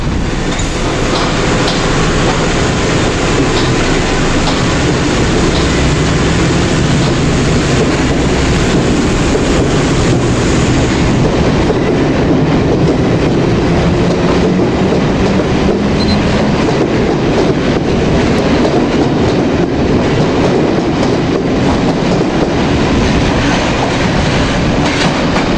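A London Underground A Stock train runs past with a steady, loud rumble and rhythmic clickety-clack of wheels on rail joints, continuous and close for the whole stretch with no talk.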